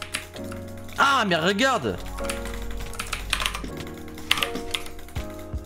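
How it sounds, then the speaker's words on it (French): Clicky typing on an RGB gaming keyboard with blue mechanical switches, brisk keystrokes running under someone speaking French and a loud tonal game sound. "Ce sont de bons vrais switches bleus comme on aime."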